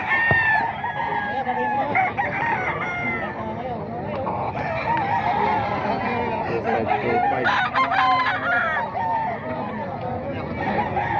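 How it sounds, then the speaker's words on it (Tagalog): Several roosters crow repeatedly amid clucking chickens, fairly close, with people talking in the background over the flock at a chicken sale. "Manok ni Boss Lando."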